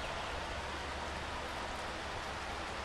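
Rain falls steadily at a fishing lake, a soft, even hiss of drops with no pauses or voices, quiet and constant throughout.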